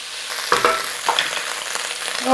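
Meat sizzles in a hot pan for a nacho casserole bake as onions and garlic are tipped in, giving a steady close frying hiss with a few louder crackling bursts as the ingredients hit the oil.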